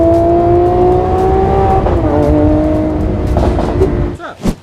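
A Honda car pulls hard under full throttle, its engine note rising steadily and loud up close, then dropping away near the end, with a faint tire squeal.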